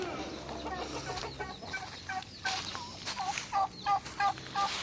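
Turkeys gobbling and clucking in a backyard flock, a run of rapid gobbles building toward the end with someone talking faintly underneath and other fowl calling around.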